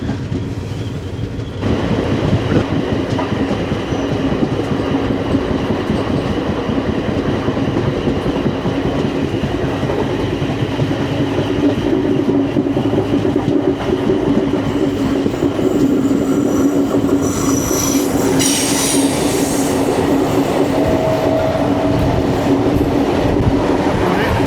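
The Koyna Express from Kolhapur to Pune rolls along, heard from an AC chair car as a loud, continuous rumble of clattering wheels with squeals rising in the later part, and no voices.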